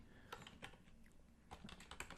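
Keystrokes on a computer keyboard while text is typed into a design program, a quiet run of short clicks in two clusters separated by a brief pause.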